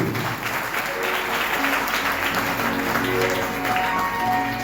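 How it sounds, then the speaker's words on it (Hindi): A church congregation claps steadily through the whole stretch during a sermon, a dense, even patter of many hands with faint voices and music tones underneath. "छोटा ताली बजाओ यीशु मसीह के लिए।"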